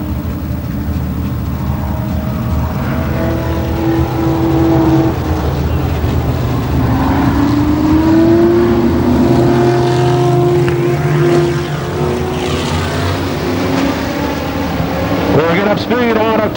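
Stock cars roar around Kil Kare Speedway during a 1993 Memorial Day championship race, loud engine drones rising and falling as cars pass, with an announcer talking over the din.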